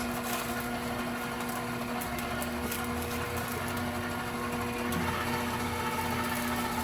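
A stand mixer with a paddle attachment, beating butter into Swiss meringue buttercream, runs as a steady, close motor whir throughout, with faint clicks and no speech.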